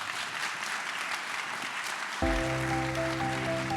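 An audience claps steadily throughout, a broad sustained wash of applause, joined in the final second and a half by a loud held organ-like tone.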